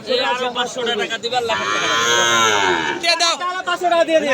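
A cow moos in a long, loud drawn-out low at a busy Bangladeshi cattle market where dairy cows and calves are sold, with people talking close by before and after the call.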